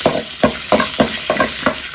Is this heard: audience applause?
no